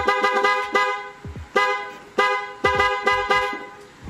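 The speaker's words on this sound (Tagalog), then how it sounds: "loud horn." A loud horn on a Rusi Flash 150X motorcycle blares close by in a rapid series of short, brassy honks, some clipped and some slightly longer, in an uneven rhythm.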